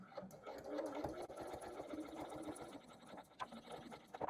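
A sewing machine runs steadily as it stitches the side seam of a boxy bag lining, a close, continuous mechanical whir with rapid needle ticking and brief changes in pace.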